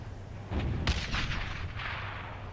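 Gunfire crackles in the PS2 World War II shooter Brothers in Arms: Road to Hill 30, a few sharp shots and short bursts at moderate distance, standing mostly alone against a low ambient hum.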